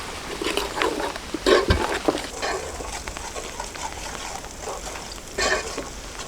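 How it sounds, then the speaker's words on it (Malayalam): Onions and kanthari chillies are sautéed in a pan outdoors during light rain, giving a steady broadband sizzle with brief stirring scrapes and a few louder bursts. "ഇതെല്ലാം നന്നായിട്ടൊന്ന് വഴറ്റിയെടുക്കാം നമുക്ക് ആദ്യം"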